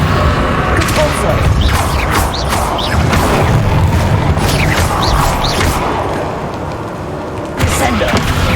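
Spell blasts boom in Hogwarts Legacy amid a chaotic magical fight, heavy thuds and crashing bursts piling up over a dense, noisy mix with a sudden jolt near the end.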